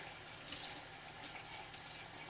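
Tap water runs steadily into a can at a kitchen sink, a soft continuous hiss and splash heard alone at low level.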